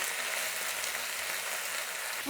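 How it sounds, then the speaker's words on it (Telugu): Mint, coriander and fenugreek leaves frying in a pot for chicken donne biryani, a steady close hiss and sizzle throughout with no talk. "పుదీనా కొత్తిమీర మెంతాకు ఇది బాగా వేగాలండి,"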